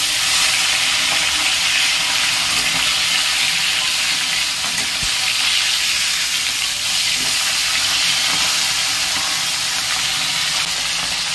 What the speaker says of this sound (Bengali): দেখুন উল্টে দিয়েছি, আর এক পাশ লাল লাল করে ভেজে নেব।